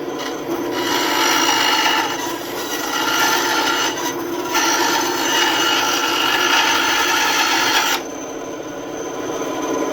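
A Ryobi benchtop band saw cuts through wood with a loud, steady rasping whine that rises and dips as the blade bites in across several passes, then eases off near the end.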